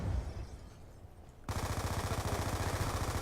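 Rapid automatic fire from a PDW submachine gun in Black Ops 2, starting abruptly after a quieter stretch and continuing as a loud, dense stream of shots to the end.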